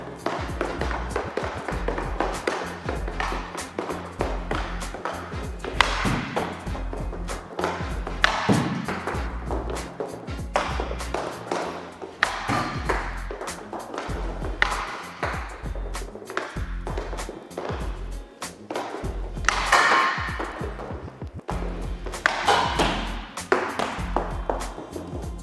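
Hockey shots taken with a CCM Jetspeed FT5 Pro stick: a steady run of sharp taps and thuds from stick and puck strikes repeats throughout, fairly close and crisp, with no talking.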